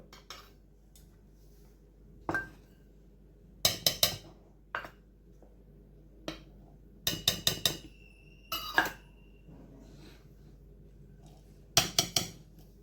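Steel utensils and a mixer jar clink and clatter as ragi dosa ingredients are added, in short sharp bursts of several quick knocks separated by quiet gaps, close and fairly loud.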